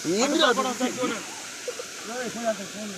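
A waterfall at the Sagar lift irrigation site gives a steady, rushing hiss that runs throughout, while someone talks over it in the foreground.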